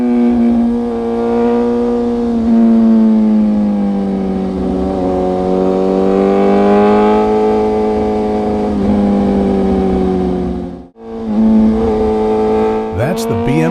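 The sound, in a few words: BMW S1000RR motorcycle engine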